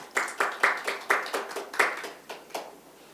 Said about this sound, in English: Please give a great applause to Professor Kong.